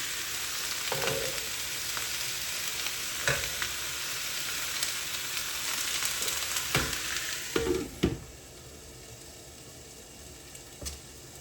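Shrimp fry in a pan with squash and shiitake mushrooms, making a continuous hiss of sizzling oil broken by occasional utensil knocks and stirring clatter.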